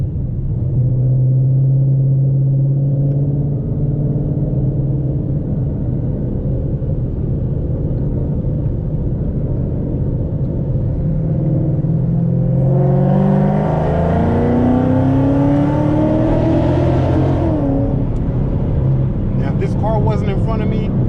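A car in third gear pulls hard from inside the cabin, its engine a steady low drone that climbs into a rising, straining rev sweep before easing off, with no talk over it.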